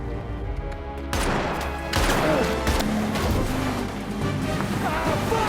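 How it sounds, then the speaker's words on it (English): Bursts of gunfire and crashing impacts over roaring engines and traffic noise, a chaotic, loud nighttime car chase scene in a film with repeated shots. "Gunfire fills the night as Parker weaves through traffic"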